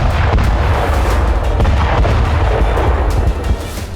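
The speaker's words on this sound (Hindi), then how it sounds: "तभी एक रॉकेट इजराइल के टैंक से टकराता है और जोरदार धमाके के साथ टैंक तबाह हो जाता है।" A rocket strikes an Israeli tank on a road in the West Bank, setting off a loud, close, booming explosion with a dense, rumbling roar that sustains for several seconds before easing slightly at the end.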